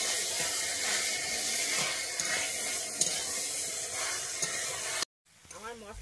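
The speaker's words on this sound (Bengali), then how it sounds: "বেটে রাখা মশলাটা আমি দিয়ে একটু ভালোভাবে কষিয়ে নেব।" Ground spice paste sizzles and fries steadily in a pan for Bengali pumpkin greens, a continuous close hiss with stirring, cut off abruptly near the end before a brief different noise.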